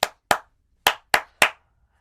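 Five sharp hand claps, the first two evenly spaced, then a pause before three quicker ones, each clear and close in a quiet room, demonstrating a straight clap for keeping bhajan rhythm.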